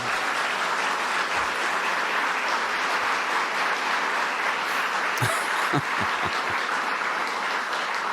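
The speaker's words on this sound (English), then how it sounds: "Look at the kids clapping" Children applaud at an executive order signing on eliminating the Department of Education, a dense, continuous clapping that stays even and loud throughout, with a few sharper knocks or thumps near the end.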